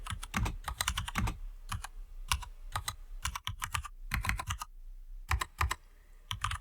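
Programming code is typed on a computer keyboard in close, quiet bursts of quick key clicks separated by short pauses, with no voices.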